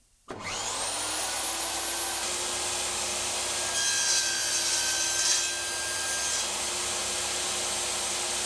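A SawStop table saw in bypass mode spins up and cuts through a plastic fence for a box joint jig, a loud steady whine with a sustained high tone after a sharp start, running alone without talk.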